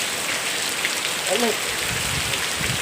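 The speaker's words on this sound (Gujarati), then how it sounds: "આટલો વરસાદ પડે છે અમારે અને આજ તો હાંકવાનું હતું પણ હકાણું નહીં અને વરસાદ પડવા માંડ્યો" Steady heavy rain hisses down evenly on a farm, with no pause, filling the whole stretch.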